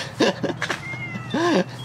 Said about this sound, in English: So this is the most vocal cat I've ever had